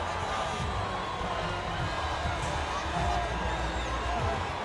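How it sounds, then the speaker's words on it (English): Crowd at Suzuka cheering and roaring at the checkered flag in the F1 25 racing game, a steady, dense wash of distant crowd noise with some voice mixed in, running the whole time without a break. "The crowd roar their approval for Yuki Tsunoda."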